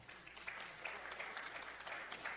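Crowd at a youth football league gathering applauding first-year coaches, a steady, fairly faint patter of many hands clapping at a distance, with no voices.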